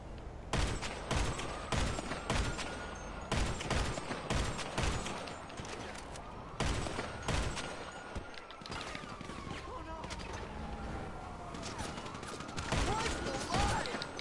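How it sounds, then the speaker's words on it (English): Bullpup rifle fire in GTA V, with repeated bursts of sharp shots spread across the span, some rapid, over a steady background hum. "Oh, I'm using a bullpup rifle."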